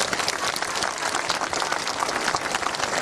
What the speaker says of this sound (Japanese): このねイベントの、開催に尽力入れた皆さんに拍手。